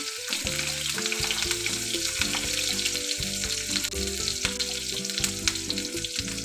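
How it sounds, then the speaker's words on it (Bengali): Eggplant pieces fry in hot oil for a mixed vegetable dish, giving a loud, dense, continuous sizzle that holds steady throughout with a low tonal drone underneath. "তেল আমার গরম হয়ে গেছে, এবার আমি বেগুনটা দিয়ে দেবো।"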